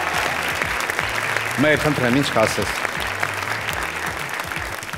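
A studio audience applauds contestants at a gala concert of a national singing competition, with steady, dense clapping throughout and a voice talking over it.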